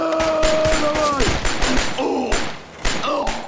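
Gunfire crackles in the video game Shadow Ops: Red Mercury, rapid close bursts and thumps packed over a few seconds, with a descending tone sliding beneath and a voice speaking in the game mix.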